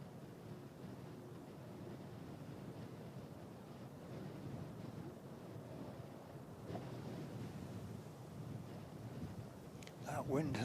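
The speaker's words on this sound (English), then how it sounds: "That wind has been relentless today." Strong, relentless wind buffeting the microphone at Christchurch Airport, a steady broadband roar across the whole stretch with a brief louder gust near the end.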